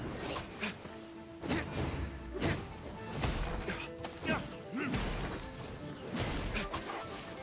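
Ice attacks striking the player in Genshin Impact, a string of crunchy, shattering impacts and whooshes over busy game background sounds, repeating roughly once a second and fairly loud, with some voice mixed in.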